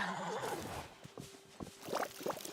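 A video game horse whinnies in a rising, wavering neigh, followed by soft hoof clip-clops and faint shuffling in the background.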